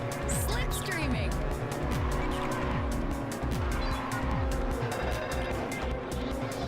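A race car in the Ridge Racer 7 video game roars at high speed while slipstreaming, with a steady loud engine drone, repeated rising and falling pitch sweeps and brief tyre squeal, continuous and close.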